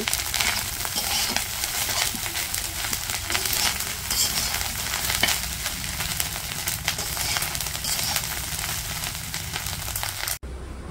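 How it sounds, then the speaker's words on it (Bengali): Fish roe fries with onion and green chilli in a village kitchen, making a loud, dense, continuous sizzle with stirring noises throughout that cuts off abruptly near the end. "সেই ডিমগুলা পেঁয়াজ কাঁচামরিচ দিয়ে ভাজি করতেছি।"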